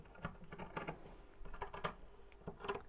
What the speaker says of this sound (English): There's that wonderful noise of scissors crunching through fabric.